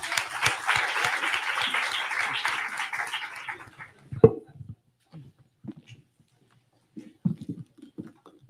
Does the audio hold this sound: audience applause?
yes